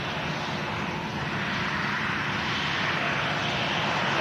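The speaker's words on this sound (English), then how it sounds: "And now just turning onto the ILS here at Manchester, we have the Airbus A380 of Emirates." An Emirates Airbus A380 on approach to land at Manchester Airport after a flight from Dubai produces a steady, loud, broadband engine roar that holds constant throughout without breaks.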